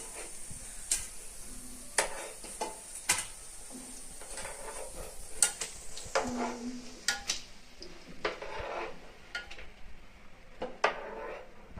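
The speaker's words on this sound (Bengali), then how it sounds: "এখন নামিয়ে নিচ্ছি, মসমসে করে ভেজে নিচ্ছি।" Cabbage pakoras being lifted from hot oil after frying until crispy, with light sizzling under a run of metal spoon and pan clinks and scraping, close by and moderately loud.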